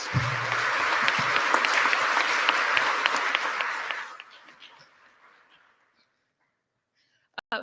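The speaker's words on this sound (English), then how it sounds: "can we get another round of applause for the EPA coordinators?" Audience applause at a conference opening ceremony, a dense crowd clapping steadily for about four seconds, then fading out into quiet.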